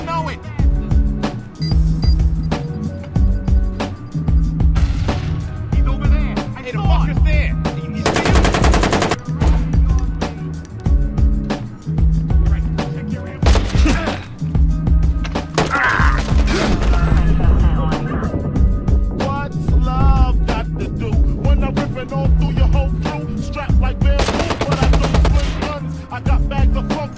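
Bursts of automatic and single-shot gunfire from the video game Watch Dogs rattle loudly and repeatedly over a busy game soundtrack, with brief voices mixed in.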